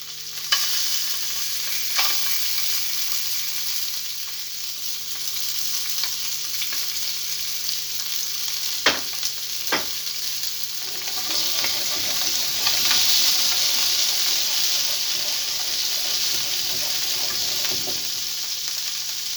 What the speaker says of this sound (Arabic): راني حنقليهم باش نافقهم مع السباغيتي ديالنا